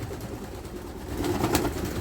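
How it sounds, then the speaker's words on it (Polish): Pigeons coo softly and repeatedly amid a low, rumbling outdoor ambience, with the birds sounding close. "Zobaczcie, to są gołębie."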